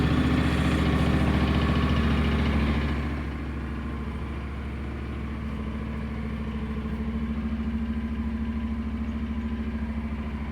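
A Honda NC 750 X DCT motorcycle engine runs close by, starting with a louder rev that settles into a steady, even idle with a low rhythmic thrum.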